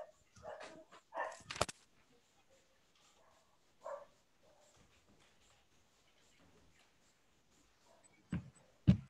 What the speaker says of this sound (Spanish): hay unos perros abajo y un paseo a perros